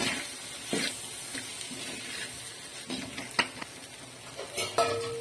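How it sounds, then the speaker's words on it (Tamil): Cluster bean stir-fry with ground coconut and peanut being stirred in a pan, with scattered scraping and clinking spoon strikes over a faint sizzle, fairly quiet and close, with no speech. "இப்போ இந்த பொடிச்சு வச்ச தேங்காயும் மல்லாட்டையும் சேர்த்து இதில் கிண்டிக்கலாம்"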